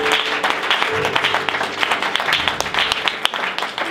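A church congregation applauds with dense, steady clapping from many hands. It fills a reverberant room evenly at moderate loudness.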